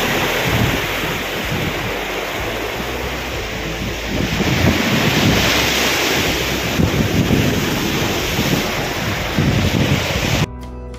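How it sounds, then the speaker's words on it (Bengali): Rough sea waves crash steadily onto Digha beach in West Bengal, a loud continuous roar of surf mixed with heavy wind buffeting the microphone. "সমুদ্র কতটা উত্তাল এই জায়গাটা দেখলে বুঝতে পারবে"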